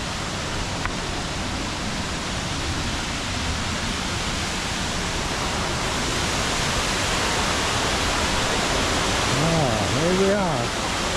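Colwith Force waterfall roaring in a steady broadband rush on a woodland walk near Elterwater, constant and fairly loud throughout, with a brief voice-like warble near the end.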